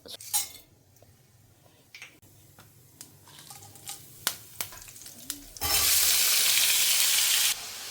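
A few clinks and taps of utensils, then a loud burst of hot oil sizzling as mustard seeds, urad dal, chana dal, dried red chillies and curry leaves hit the pan for tempering, crackling steadily before stopping.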